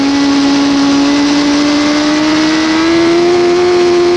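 A 2001 Suzuki GSX-R1000 sportbike accelerates at full throttle, its loud, steady engine howl climbing smoothly in pitch without a break, heard close and alone.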